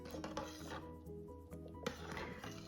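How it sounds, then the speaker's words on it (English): Metal utensil scraping and clinking against the inner pot of an Instant Pot while seafood congee with shrimp is stirred, a quiet run of irregular scrapes and light knocks. "Keep stirring constantly so that the congee doesn't burn on the bottom."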